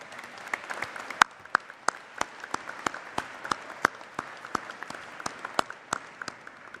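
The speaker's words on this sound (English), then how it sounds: "Give him a round of applause." Sparse applause at a university winter commencement ceremony: a small scattering of hands clapping in an irregular but steady patter of sharp claps, moderately near, with no talking over it.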